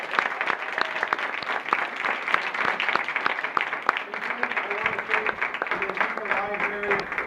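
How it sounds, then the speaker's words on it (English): Audience applause after a talk by Dan Barker, steady clapping from a sizable crowd across the whole stretch, with voices and a few whistles or shouts mixed in near the end. "How about another round of applause for him?"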